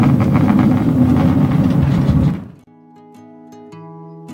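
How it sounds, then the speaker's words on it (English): A loud, rumbling train ride in Germany with rattling wheels fills the first half, then cuts abruptly to quiet soft music tones. "Traveling by train"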